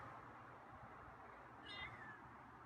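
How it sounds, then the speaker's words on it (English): A feral cat outdoors gives a single short, faint meow partway through, over quiet background noise. "It's another meow. Now another meow."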